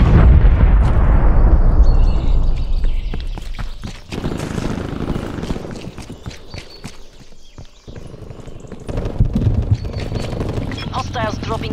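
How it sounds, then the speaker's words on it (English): Missiles drop and explode in Call of Duty Black Ops Cold War, opening with a loud, rumbling blast that rolls off, then scattered further bursts and clatter under game radio voice callouts. "missiles dropping in your AO."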